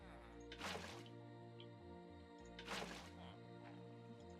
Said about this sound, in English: So you're going to place a bucket of water in each of the 4 corners,